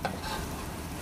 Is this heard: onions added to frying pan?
yes